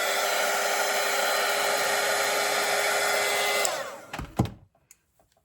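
A hair dryer blows steadily on a watercolor wreath painting, a loud, even whooshing hiss that runs for several seconds and then cuts off, leaving a few faint clicks and handling sounds.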